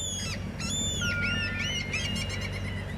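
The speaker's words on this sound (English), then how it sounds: "Oh, seagulls" Seagull cries in the Summer Pockets Reflection Blue video game, a few high chirping calls close up over a steady low background hum, with no talk.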